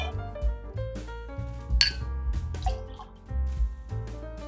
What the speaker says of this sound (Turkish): Şöyle shaker'ıma 6 siyer vodka koyuyorum.